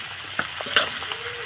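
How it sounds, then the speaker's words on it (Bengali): Egg noodles and chopped tomato sizzle in a hot pan with a few scraping stirs, a steady frying hiss under brief clinks of a utensil. "টমেটো সুন্দর করে নাড়াচাড়া করে নিতে হবে।"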